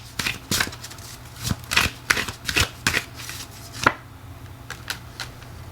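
Tarot cards shuffled by hand, a series of sharp riffling bursts in an uneven rhythm, close and fairly loud, with a quiet low hum underneath.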